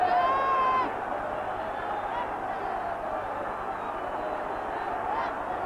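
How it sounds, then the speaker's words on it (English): A football crowd at St James' Park, Newcastle, keeps up a steady distant roar and chanting through a match against Fulham, heard under a commentator's voice. "Crowd really behind them still."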